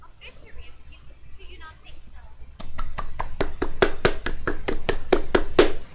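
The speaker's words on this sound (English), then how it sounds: "That was a terrible fucking clap." Around a dozen sharp, close hand claps in an uneven, slightly ragged rhythm, following a stretch of quiet talk.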